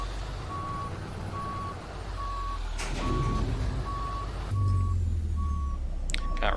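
A truck backing out of a yard in American Truck Simulator: a steady reversing beep repeats at an even pace over a low diesel engine rumble, with a sharp air-brake hiss partway through and again near the end.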